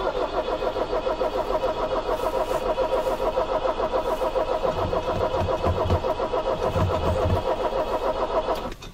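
A car engine cranks steadily on a cold start attempt after a head gasket and leak repair product was added, a continuous rhythmic starter whir filling the whole stretch up close without catching.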